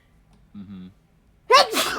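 After a short murmured voice, a single sharp sneeze bursts out loudly and close, trailing off quickly.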